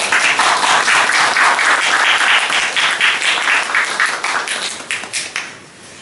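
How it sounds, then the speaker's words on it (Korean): A church congregation applauds its choir during a Sunday service, a loud, dense burst of clapping filling the room before tapering off toward the end. "다시 한번 박수 한번 주십시오."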